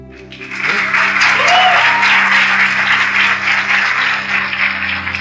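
Church congregation applauding during a sermon, a steady wash of clapping from many hands that rises quickly and holds loud throughout, with a low hum of the hall underneath.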